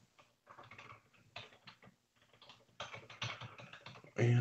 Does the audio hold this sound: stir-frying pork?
no